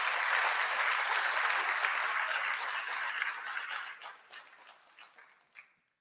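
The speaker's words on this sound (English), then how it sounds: "Please put your hands together for them" An audience at a summit honoring short documentary makers breaks into full, sustained applause that gradually thins out into scattered claps and fades to near silence.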